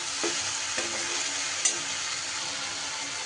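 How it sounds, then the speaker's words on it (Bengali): Ground spices such as turmeric, Kashmiri chilli, coriander and cumin powder, with salt, sizzle and fry steadily in a pan for a cauliflower dish, stirred with faint scraping; a continuous hiss with no talking. "সুন্দর করে মশলা আমি কষিয়ে নেব।"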